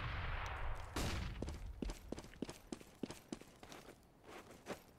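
Counter-Strike: Global Offensive gunfire plays faintly: one heavy blast, then a quick run of evenly spaced sharp shots with a few more trailing after.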